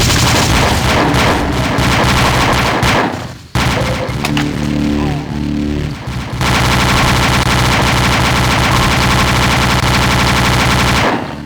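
Rapid bullet fire from a demon monster in the Doom 2 CUBE game, loud dense automatic bursts that pause briefly mid-clip and then resume in a long sustained stream.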